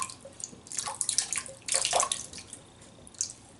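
A wet shaving brush being squeezed and shaken out during a traditional shave, giving soft, brief splashes and drips of water in several close bursts.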